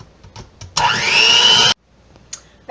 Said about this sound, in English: I've got the dough hooks on my electric mixer. I'll plug it in. I'm just going to put it on power level 1 and mix the egg and the flour.